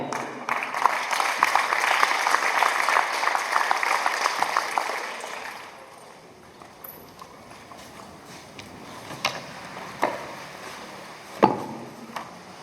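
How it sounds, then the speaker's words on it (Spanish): Audience applause at a formal civic welcome ceremony in San Mateo, Valparaíso, Zacatecas, a dense steady clapping for several seconds that fades out, followed by quieter scattered claps and a few sharp isolated sounds. "recibamos con un fuerte aplauso"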